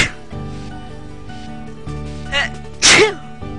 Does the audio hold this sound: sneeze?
yes